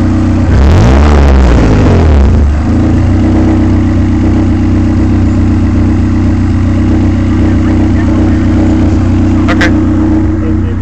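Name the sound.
Honda CRX car engine running loud and steady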